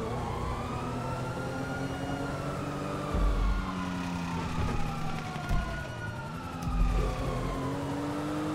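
Wailing police car siren in a video game, its rising and falling sweeps repeating over a rumbling car engine, with brief low thumps scattered through.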